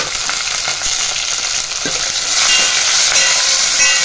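Curry leaves, turmeric and chopped onion fry in oil for rama rasam, giving a close, bright, hissing sizzle that holds steady and grows slightly louder toward the end, with no voices.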